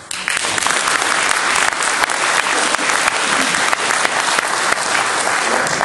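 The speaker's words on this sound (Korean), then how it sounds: "우리 박수 한번 집중하세요" A church gathering in a hotel hall breaks into sustained applause, a loud, dense wash of many hands clapping with a few sharper individual claps standing out, continuing steadily throughout.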